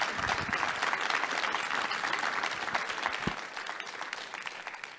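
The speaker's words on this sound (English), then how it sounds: "a round of applause, please." An audience at a Federal Reserve policy summit gives a sustained round of applause for the bank president, a dense, steady field of clapping lasting five seconds at moderate level.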